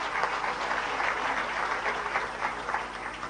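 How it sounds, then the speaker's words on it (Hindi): An audience at a youth gathering in Bhubaneswar, Odisha, claps loudly and steadily, a dense wash of many hands close by that continues throughout without a break. "तालियां तो जोरदार बजा।"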